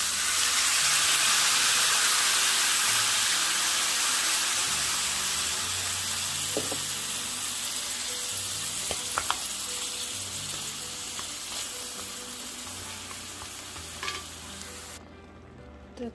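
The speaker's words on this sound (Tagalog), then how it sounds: "Lagyan natin ng gata." A pot of squash, string beans and shrimp simmering in coconut milk gives off a steady sizzle and bubbling hiss that slowly fades, with occasional light clinks of a utensil stirring.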